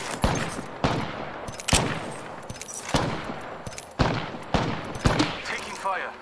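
Gunfire in Apex Legends: a series of sharp, loud shots and short bursts spaced irregularly across the stretch, each cracking out and decaying quickly.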